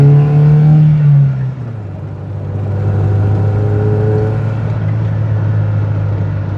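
A Volvo 240 engine idles close by with a deep, steady hum, dipping after a higher-pitched rev in the first moments and then settling into a low, slightly uneven idle.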